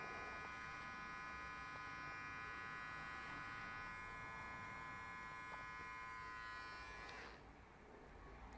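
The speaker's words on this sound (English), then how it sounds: "I'll put one finger on the head just so that I can balance my clipper" Electric hair clipper buzzing steadily during a basic men's haircut, held close and running continuously with a bright harmonic whine, then easing off near the end.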